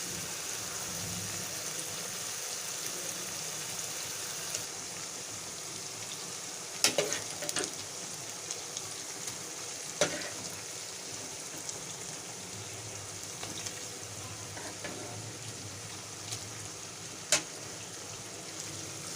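Fried koftas dropped into a pot of shab daig curry and stirred, with a steady oily sizzle under occasional sharp clinks and scrapes of the spoon.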